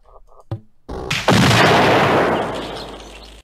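A Santa bomb in a video game goes off after a few short electronic blips and a sharp click, a loud booming blast that rolls into a long, fading rumble.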